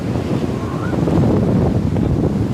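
Sea waves and gusting wind on a beach in Jaffna make a steady, loud broadband roar of surf and wind buffeting the microphone, with no voices.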